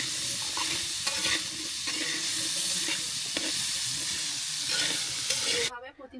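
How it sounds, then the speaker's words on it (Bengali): Red potatoes frying in a pan of hot oil, stirred constantly, with a continuous loud sizzle and hiss and repeated scraping strokes of a spatula, no talk. "এভাবে অনবরত নেড়ে চেড়ে আলুটাকে আমি সুন্দর করে ভেজে নিব"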